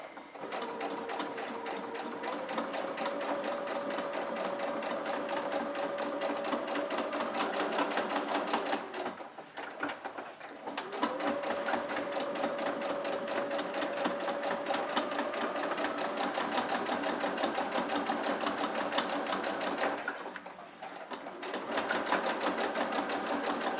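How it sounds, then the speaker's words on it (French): A sewing machine stitching fabric for a bread basket runs in a steady, fast whirring hum up close, pausing briefly twice before resuming its even mechanical rhythm. "Et donc je couds doucement à 5 mm du bord du tissu."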